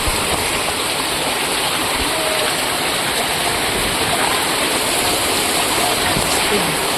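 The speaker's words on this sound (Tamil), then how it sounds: "இங்கே வெள்ளம் வந்துட்டு இருக்குதுங்க" Floodwater rushing through streets after heavy rain in Coimbatore, a loud, continuous broadband roar like a stream or waterfall, steady throughout with no break.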